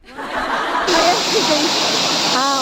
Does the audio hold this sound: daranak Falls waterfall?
yes